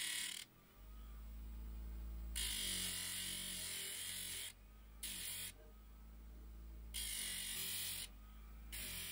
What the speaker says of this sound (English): So we'll sand those off or grind.